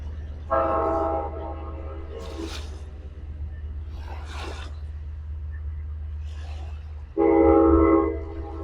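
A train passes nearby, sounding its horn in two loud sustained blasts at the start and end, with a rumbling roar and bursts of rail noise in between.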